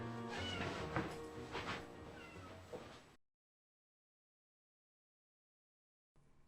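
A cat meows several times as a sound effect, loud drawn-out cries clustered together before the sound cuts to silence.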